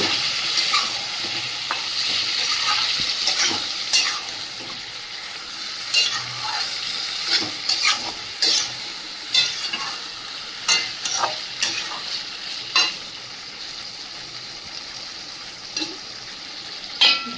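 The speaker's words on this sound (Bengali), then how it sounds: "সামান্য একটু জল দিয়ে দেব দিয়ে ভালো করে মাংসটা কষিয়ে নেব" Meat stir-fries in a pan with a splash of water, a constant sizzle broken by repeated sharp scrapes and knocks of a spatula, spaced irregularly and close by.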